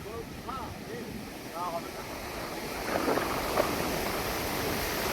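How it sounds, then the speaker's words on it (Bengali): Gusty cold wind sweeps across Puri beach, a continuous rushing roar buffeting the microphone with surf behind it, growing slightly stronger toward the end; a few distant bird or voice chirps appear early. "আর হাওয়াটাও বেশ একটা ঠান্ডা ঠান্ডা, মানে ঝোড়ো হাওয়া মতো একটা চলছে।"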